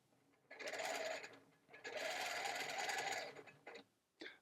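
A Pro-Stitcher computerized quilting machine basting a quilt runs in two steady whirring stitching bursts, the second longer, each ending in a brief pause, then a short mechanical blip close by in a quiet room.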